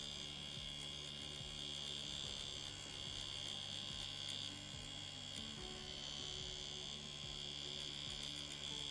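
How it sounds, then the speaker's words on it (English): A steady electric buzz from a tattoo machine needle working into skin, continuous and even for the whole stretch with a faint underlying hum, no speech. "When I hear the needle grabs the skin, those scratches, it's mean I have nice color saturation."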